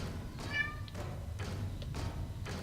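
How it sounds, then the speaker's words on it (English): A pet cat meows indoors, faint and somewhat distant, with a few short cries over a low steady background hum. "my kitty cat decided that he wants to meow again"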